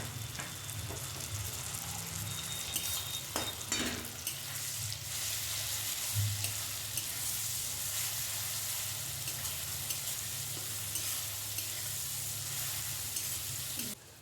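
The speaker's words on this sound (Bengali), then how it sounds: "এবার আমি রসুন বাটাটা দিলাম।" Garlic paste sizzles steadily in hot oil with nearly fried onions in a pan, cooking for a bottle gourd and shrimp curry; a continuous, even frying hiss runs throughout, close and fairly loud, with a few brief clinks and no talking.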